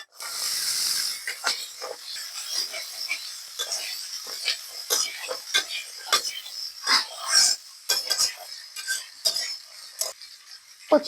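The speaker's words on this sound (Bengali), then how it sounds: "তারপর কচুরলতি দিয়ে ভালো করে ভাজি করে নেব" Taro stolons frying with garlic in oil left from frying fish, a steady close hiss broken by frequent sharp scraping clicks as a utensil stirs through the pan.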